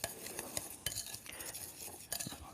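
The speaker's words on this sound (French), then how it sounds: "On va mélanger le tout. Tu vois, tu le mélanges bien." Coarse salt and sugar being stirred together in a salad bowl for a trout cure, giving a gritty, scraping run of strokes with light clinks from a utensil against the bowl, close and fairly soft.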